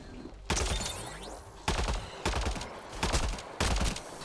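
Gunfire in the Mass Effect: Andromeda video game, several separate loud bursts of shots in quick succession over about four seconds, no talk.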